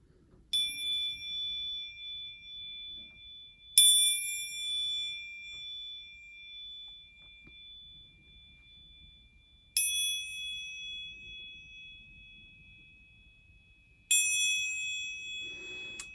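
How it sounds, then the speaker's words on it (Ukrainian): A steel tank hinge struck four times, each hit giving a clear high ring that sustains and slowly fades in a quiet room. "зараз робимо тест на дзвін"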